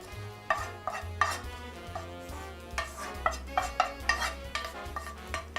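Bacon and onions cooking in a pan, with repeated clinks and scrapes of a utensil stirring against the pan over a low steady sizzle, close up and without talk.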